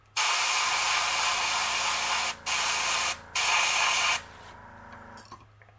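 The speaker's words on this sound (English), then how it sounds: "laying the stencil on there and spraying some black" Black spray paint hisses through a stencil onto a fishing lure in three loud, steady bursts with two short breaks, then fades to quiet.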